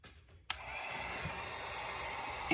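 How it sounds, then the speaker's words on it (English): A heat gun blows with a steady, even whoosh as it cures DTF transfer powder, switched on abruptly after a brief quiet moment and running continuously at close range. "And then we're going to go ahead and use our heat gun."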